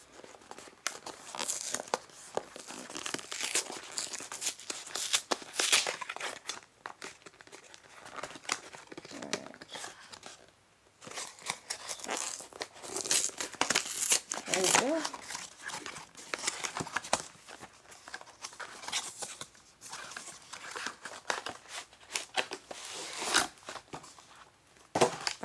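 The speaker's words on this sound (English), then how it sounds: "I'm about to open the second intro pack, the Talvan Depths of Power intro pack that is blue and red." A Magic: The Gathering M13 Depths of Power intro pack is opened, its plastic wrapper crinkling and crackling up close in busy bursts, with a brief lull partway through.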